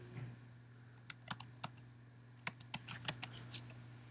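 Typing on a computer keyboard while entering details into a website, with scattered soft key clicks in short bursts over a steady background hum; fairly quiet and close, with no talking.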